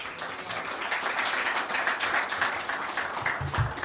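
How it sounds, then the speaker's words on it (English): An audience at a mosque program claps steadily and densely throughout, a continuous wash of many hands at moderate loudness, with a few faint voice fragments near the end. "Come on, family. Keep clapping"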